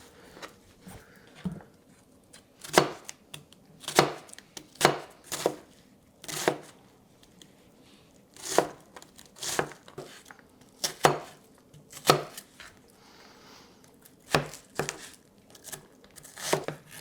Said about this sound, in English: Let's start by slicing our onion